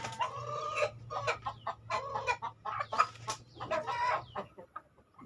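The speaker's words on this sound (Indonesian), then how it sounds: "babon blorok ini" A speckled hen clucks in a steady string of short, repeated calls, close and clear over a low constant hum, with no one talking.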